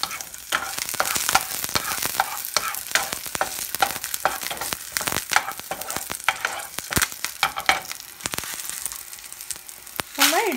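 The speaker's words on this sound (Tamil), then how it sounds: "நம்ம எடுத்து வச்சுருக்கிற கருவேப்பில் பூண்டு ஆட் பண்ணிக்கோங்க. இதை லைட்டாக வதக்கிக்கோங்க." Curry leaves and garlic sautéing in a pan, with a continuous close sizzle broken by frequent sharp scrapes and clacks of a spoon stirring throughout.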